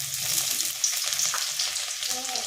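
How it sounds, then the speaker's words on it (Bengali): Chopped garlic sizzling in hot oil as it goes into the pan, a bright steady hiss with light stirring clicks, close and constant. "এই যে তেল গরম হয়ে গেল, তেলে রসুনটা দিয়ে দিলাম"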